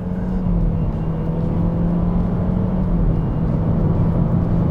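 A 2022 Haval F7 with a CVT pulls away hard from a standstill after a two-pedal launch from about 1500 rpm, its engine holding a steady, even drone heard from inside the cabin.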